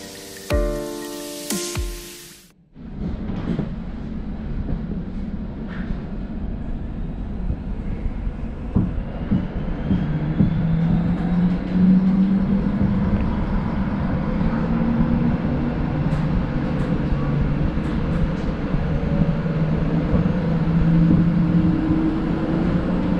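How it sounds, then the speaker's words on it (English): An almost 40-year-old Cologne Stadtbahn B100S light rail train running, a steady rumbling roll with rising motor whine and wheel noise that builds after a brief quiet start, heard from on board and without talk. "But now it's time to listen to the sound of the"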